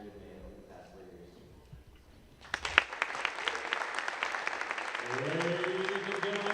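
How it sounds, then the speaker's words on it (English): After a quiet stretch with a voice, a basketball crowd breaks into applause for senior players, scattered claps building into a fuller round as talking continues over it. "let's give them one more big round of applause"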